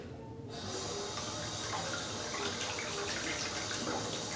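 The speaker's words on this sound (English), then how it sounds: "Let me wash this off." Tap water gushes steadily into a sink as a razor cut is washed off, a close, constant rushing stream that starts abruptly and keeps running with no talk.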